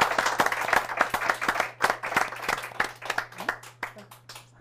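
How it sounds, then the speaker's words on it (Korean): A book forum audience breaks into applause, with sharp individual claps at first that thin into scattered, fading claps, heard close over a steady low hum, with a few murmured voices. "이렇게 박수 쳐야 되겠다"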